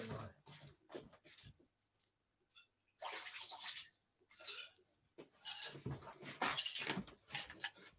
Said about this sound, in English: Right, I've got to tip some of this water outside.